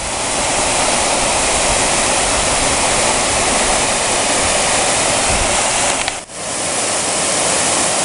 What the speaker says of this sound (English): Cool little waterfall here.